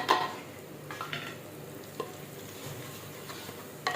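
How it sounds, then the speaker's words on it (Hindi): Spices frying and being stirred in a pot for matka daal fry, a soft continuous sizzle with a few sharper scrapes of a spoon against the pot at the start, near 1, 2 and 4 seconds, no talking. "अब डालते हैं मसाला"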